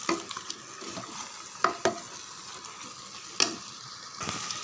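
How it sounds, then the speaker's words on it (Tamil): Chicken biryani with mint stirred in a pan over the heat, a close steady sizzle broken by a few sharp scrapes and clinks of the spoon against the pan. "இங்கே பாருங்கள், கூடவே புதினாவும் சேர்த்து நல்லா கலந்து விடுங்க"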